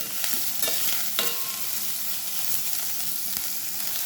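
Onion and green chilli sizzle and fry in hot oil in a pan for a green gram stir fry, a steady bright crackle with occasional clicks of stirring, no voices.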